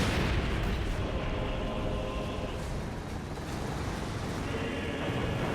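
Rockets and mortar fire in a Company of Heroes 2 battle rumble as a dense, continuous wash of distant explosions and booms, with no clear individual blasts standing out over the steady roar.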